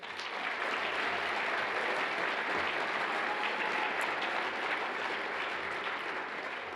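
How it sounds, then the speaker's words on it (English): A steady, dense round of applause from an audience at a state governor's arts awards ceremony honoring the Arts Council Board, sustained and even throughout without any talking. "So a round of applause for the Arts Council Board."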